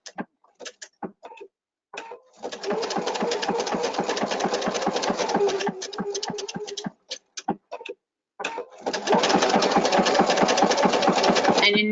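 A sewing machine runs a satin stitch around a curve in two long bursts of rapid, even mechanical chatter, separated by short stops and a few single stitches, close and loud.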